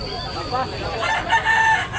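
A rooster crows at a chicken market in Tabunok, Talisay, Cebu, a drawn-out, clearly pitched cock-a-doodle-doo rising in the second half over murmuring voices and general market noise.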